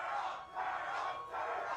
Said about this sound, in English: Dude, why did they get so much louder, the crowd?